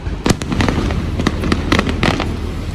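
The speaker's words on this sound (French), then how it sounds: "Bon, alors, il y a le feu d'artifice." Fireworks burst over Monaco in a steady run of sharp cracks and booms, several overlapping explosions across a few seconds against a loud, continuous rumble of the display and crowd.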